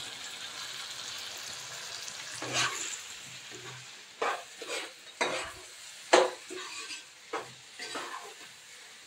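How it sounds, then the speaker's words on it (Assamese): Chicken meat is stir-fried in a pan for a chicken curry, a soft steady sizzle punctuated by a series of sharp scraping and clinking strokes of a utensil against the pan, irregular and close. "এনেকৈ ভাজি ভাজি মাংসটো বনাবচোন"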